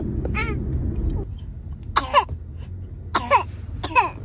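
A young toddler, one of twins, gives several short throat-clearing coughs in imitation of a coughing brother, after a low rumbling background at the start; the fake coughs come in spaced bursts, fairly close.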